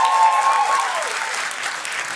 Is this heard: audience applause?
yes